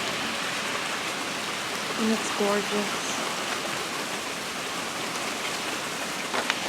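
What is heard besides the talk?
rain falling outside open window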